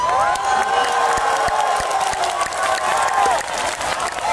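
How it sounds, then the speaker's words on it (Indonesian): A crowd claps loudly at an Islamic sermon during an anniversary celebration, with sharp individual claps over a steady wash of applause and scattered cheers and whoops. "Tepuk tangan, baru banyak pelakunya di sini."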